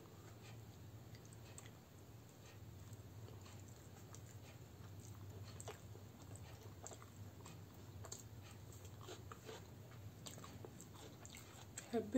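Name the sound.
eating roti with egg curry (dim kosha)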